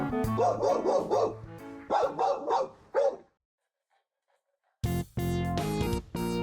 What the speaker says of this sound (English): Barking intensifies.